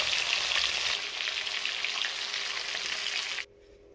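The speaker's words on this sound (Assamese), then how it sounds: "তেল গৰম হৈ গ'ল, এতিয়া ইয়াত মাছ দিব পাৰিম।" Fish spits and crackles in hot oil with a dense, steady sizzle that fills the pan, close and loud, then cuts off abruptly near the end.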